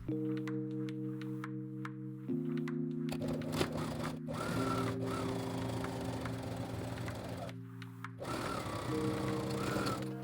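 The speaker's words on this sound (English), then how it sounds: "Fold it in half lengthwise and sew the long edge with a 1 cm seam allowance." A sewing machine stitches the long edge of a folded fabric strip for a bucket bag, its steady whirring motor hum running in long bursts with a brief pause, close and continuous.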